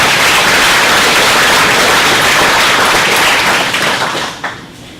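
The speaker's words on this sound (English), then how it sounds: "please, a round of applause again for our board" Loud, sustained applause from the crowd at an electric cooperative's 80th-anniversary annual meeting, a thick wash of clapping that holds steady for four seconds before thinning out at the end.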